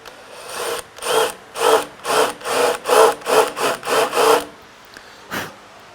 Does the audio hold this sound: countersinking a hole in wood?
yes